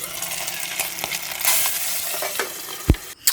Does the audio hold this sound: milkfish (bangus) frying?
yes